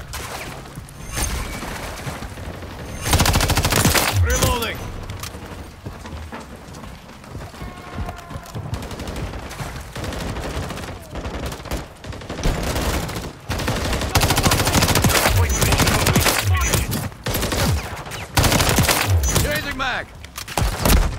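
Video game gunfire crackles throughout, with repeated rapid bursts and single shots at a steady, fairly loud level, mixed with game effects and occasional voices.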